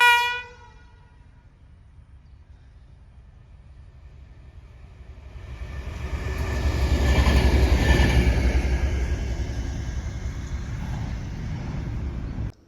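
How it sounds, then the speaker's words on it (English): Aurizon 2800 class locomotive 2847 passing on the line near Townsville, opening with a horn blast, then a rumble that builds to a loud, close roar of wheels and wagons before easing slightly. "I was surprised by Aurizon 2800 class 2847, most likely headed to the port of Townsville"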